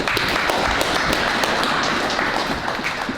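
Youth audience at a boxing gym in Calgary gives a steady round of applause, dense continuous clapping filling the room at close range with no talk over it.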